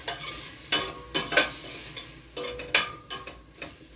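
A spoon scrapes and stirs through red bean stew cooking in a pot, giving several sharp, uneven strokes over a faint bubbling sizzle, close up and alone.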